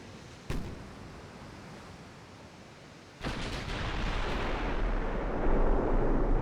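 Warship guns firing armor-piercing shells in a naval combat game: a sharp boom, then a second heavy blast that opens into a sustained, loud roaring rumble like surf and rolling gunfire.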